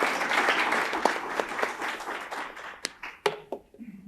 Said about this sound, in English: let's just say wow and clap hands for Ms. Tabu as she comes to welcome you guys